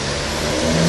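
A BMW E60 530D diesel engine revs briefly, a loud, close, rising mechanical roar with a deep rumble lasting under a second.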